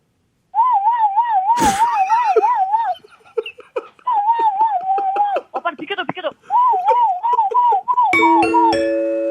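A voice imitates a wailing ambulance siren in repeated rising and falling pulses, with laughter and a short chime breaking in near the end.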